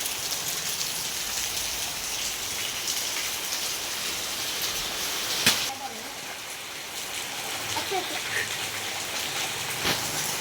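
Monsoon rain falls steadily in a dense, even hiss of drops on surfaces, fairly soft and close, with a single sharp knock partway through and a few small splashes.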